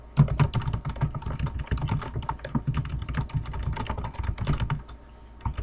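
Quick, irregular keystrokes clatter on a computer keyboard in bursts and pauses as someone updates a work journal, close and fairly quiet, with no voices.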